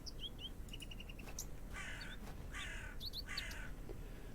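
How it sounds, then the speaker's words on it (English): Harsh caws from a crow in a quiet video game scene, three drawn-out calls repeating at steady intervals over soft ambient hiss, with a few thin chirps earlier on. "It's the crow again."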